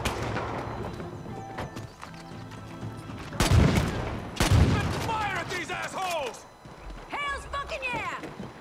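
Gunfire in the first-person shooter Far Cry 5: two heavy booming shots stand out amid scattered distant bursts, with characters shouting and talking over the combat.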